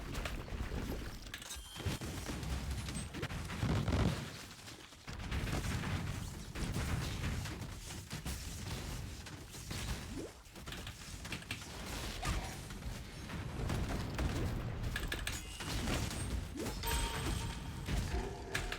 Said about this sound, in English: Almost got hit by this Ice Nova.